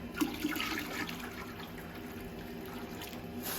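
Steady rushing water runs and splashes continuously at moderate level, heated water being poured and mixed with outside water in a container, with no voices.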